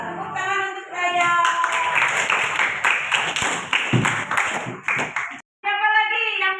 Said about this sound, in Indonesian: Tepuk tangan untuk Raya.